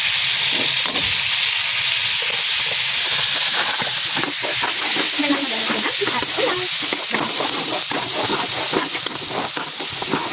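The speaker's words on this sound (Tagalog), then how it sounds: "ilalagay na natin ang bawang at sibuyas" Garlic and onion frying in butter in a pan, a steady loud sizzle and hiss with small crackles and pops throughout.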